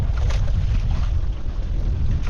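Strong northeast monsoon wind blows across open sea, a steady loud rush of wind buffeting the microphone along with low rumbling water noise around a boat, with no voices.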